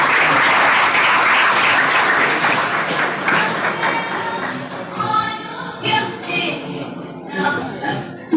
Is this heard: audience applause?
yes